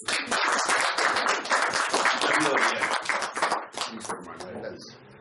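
Audience applause welcoming a speaker at an evening talk, sustained clapping from many hands for about four seconds that thins out toward the end, with some voices mixed in.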